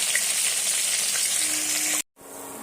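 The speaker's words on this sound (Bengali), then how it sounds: "এই মাছের মাথাটা খুবই সুন্দর করে মুচমুচে করে ভাজতে হবে" A fish head deep frying in a kadai until crispy, with a dense, loud, steady sizzle and crackle that cuts out abruptly for a moment near the end before resuming.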